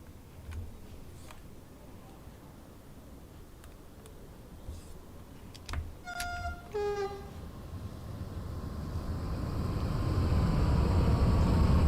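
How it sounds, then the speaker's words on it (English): A train rumbles closer and grows steadily louder, with two short horn blasts sounding midway before the roar of its passing fills the end, in Train Sim World 2 on the Luzern–Sursee line at Rothenburg Dorf. "Let's watch the train going through."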